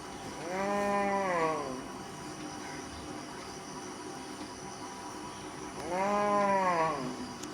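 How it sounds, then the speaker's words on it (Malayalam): An older cow in a herd moos twice, each call long and loud with a rising then falling pitch, a few seconds apart, over a steady background of chirping insects. "ആ പശു ഇവരെ വിളിക്കണ ഒരു രംഗമുണ്ട്"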